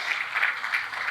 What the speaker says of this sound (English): I'll ask for a warm applause again